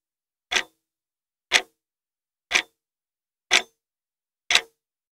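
A clock hanging above a person's head ticks five times, one crisp isolated tick each second, close and clear against total silence.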